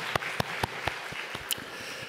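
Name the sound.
church congregation applause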